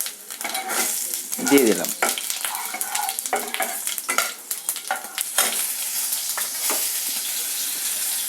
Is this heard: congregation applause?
no